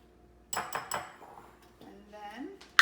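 Dry ingredients for keto bread, sweetened with stevia, are stirred together in a bowl, producing a few sharp clinks and scrapes of utensil against the bowl, fairly close and moderately loud, with a final bright clink at the end.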